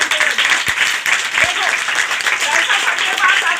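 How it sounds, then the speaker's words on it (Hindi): Loud, dense applause from an audience at an event helping needy students with education, a steady wash of clapping with a couple of sharper individual claps standing out early on. "एक बार जोरदार ताली देखो"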